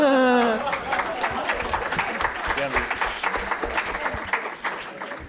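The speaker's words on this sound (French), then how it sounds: "j'ai entendu là-bas quelques applaudissements" Audience applause at a church conference, with a voice trailing off at the start before a crowd's clapping takes over, a dense patter of many hands, moderately loud.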